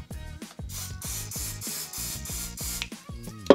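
Repeated short hissing sprays from a Ballistol aerosol can onto hand tools, about a dozen quick bursts in a steady rhythm, close by, with faint clicks between them.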